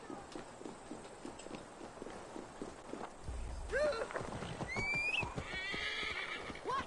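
A horse in the video game Assassin's Creed Valhalla: soft footfalls and background clatter lead to a clear whinny and snorting, with rising tonal calls near the end, all fairly faint.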